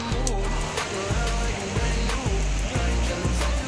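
Mountain river water flowing steadily below Maragang Hill on the Mesilau route, a broad continuous rush that fills the clip at close range, with recurring low rhythmic thumps underneath and no talk.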